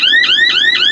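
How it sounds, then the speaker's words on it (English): A hay baler's electronic alarm sounds after the worm gear override is pushed: a loud, close, rapidly repeating rising electronic whoop, cycling about four times a second with no talk. "I'm just gonna push this worm gear override, and the alarm's gonna start going off."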